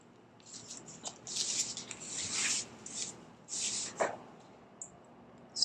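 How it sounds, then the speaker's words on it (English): Short scraping strokes pulling acrylic paint off a poured abstract painting, several soft rasping passes with brief pauses between, close but faint and alone. "Just gonna scrape that off."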